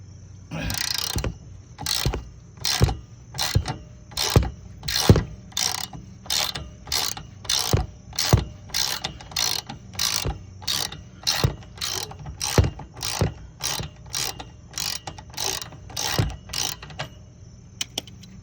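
A ratchet wrench works a nut off a bolt on an RV suspension during a MORryde CRE/3000 heavy-duty shackle and wet-bolt upgrade. Close, crisp ratcheting clicks repeat in a steady rhythm, roughly thirty strokes with no talking.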